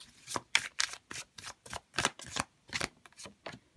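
Tarot cards shuffled by hand, a quick run of about a dozen crisp riffling swishes and flicks in uneven rhythm, close and quiet with no voice.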